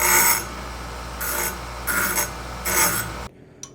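Metal file rasping across the freshly cut end of a threaded rod to knock off burrs, during a DIY foot clutch build for a Yamaha XS650 motorcycle: four close, loud back-and-forth strokes, then quiet.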